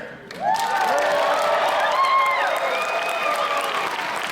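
A convention crowd at Wizard World 2014 in Reno breaks into loud, sustained applause and cheering for a director, whoops and shouts riding over steady clapping after a brief quieter start.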